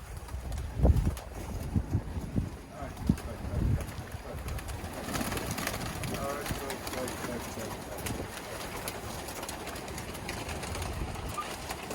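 Pigeons inside a loft at a pigeon-receiving event, faint cooing and wing flutters under a steady rush of wind noise, with someone talking nearby at the start.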